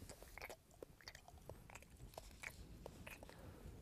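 Gum is chewed in quick, irregular, faint wet clicks and smacks close by, with no other sound.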